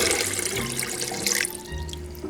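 Ice-cold water from a freezer-chilled container pouring steadily into a bowl for a banana pudding, a continuous close splashing and trickling stream with no talk.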